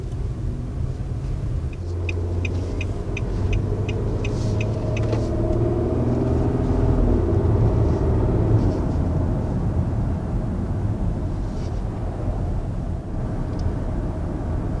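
A 2019 Nissan Murano driving over a rough road gives a constant, loud cabin rumble of tire and road noise. A short run of clicks sounds early on, and no one speaks.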